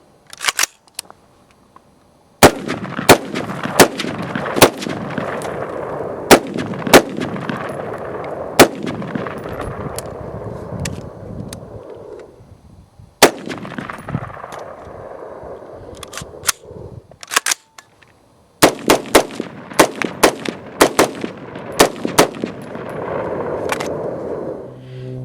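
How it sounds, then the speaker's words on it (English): AR-15 rifle fired in a series of sharp, loud single shots with short echoing tails, spaced irregularly in bursts across the clip, with no talking. "When I'm shooting this, I want you to notice the lack of recoil."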